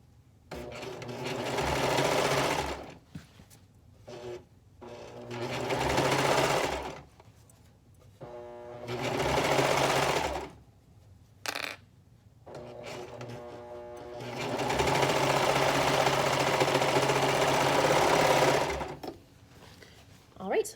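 A sewing machine stitches a romper seam in several bursts, running steadily for a few seconds at a time with short pauses between runs, close and fairly loud with no talking.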